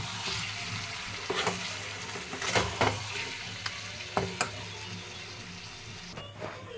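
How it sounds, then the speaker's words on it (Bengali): Tomato and meat fry together in a pan with a steady sizzle and hiss, while occasional stirring scrapes and clacks stand out above the frying noise. The sound is close and continuous, and no one speaks. "দিয়ে টমেটোটাকে কষে নেব।"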